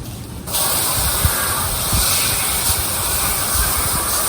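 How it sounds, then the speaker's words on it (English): A steady, loud hiss of water spraying from a hose starts abruptly and continues without a break. "spray it off."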